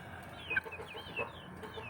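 Soft clucking from a few chickens, faint and close together, with scattered short calls and no one speaking.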